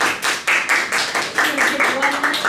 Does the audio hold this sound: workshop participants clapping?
yes